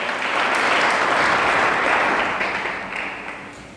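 A church congregation breaks into sustained applause, a dense wash of many hands clapping together that swells and then gradually tapers off, with no talking over it.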